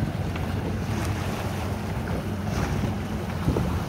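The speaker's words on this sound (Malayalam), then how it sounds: "നമ്മളത് പോകേണ്ട ബോട്ട് അതാ വന്നിട്ടുണ്ട്." A boat arrives on the sea at Kovalam amid a steady wash of waves and strong wind buffeting the microphone, a continuous broadband roar with no distinct engine note standing out.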